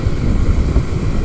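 A Yamaha Virago 125 motorcycle picking up speed toward its top speed, a brief loud, steady low engine drone buried in heavy wind rush against the microphone.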